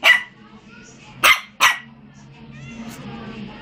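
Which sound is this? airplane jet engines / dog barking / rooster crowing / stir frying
dog barking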